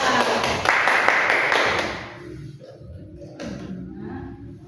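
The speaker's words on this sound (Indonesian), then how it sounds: "Kita kasih dulu tepuk tangan buat teman kita" A classroom of children claps for a classmate: loud, dense clapping for about two seconds that then drops away to quiet room noise with a few soft taps.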